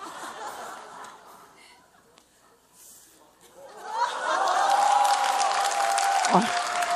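A church congregation breaks into clapping after a stretch of murmured talk and chuckles; the applause swells midway and carries on as a dense, fairly close wash of many hands, with some laughter mixed in.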